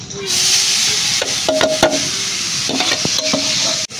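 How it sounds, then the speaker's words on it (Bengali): Grated coconut frying in an oil-and-water-greased kadai hisses steadily, with a few clinking stirs of a utensil against the pan, close and fairly loud, with no talk. "নারকেলটা একটু কড়াই কিন্তু ভেজে নেব"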